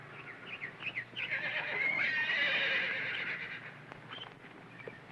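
A horse neighs in a long, shaky whinny that rises and trembles, preceded by a few short snorting calls, heard at moderate distance and fairly faint.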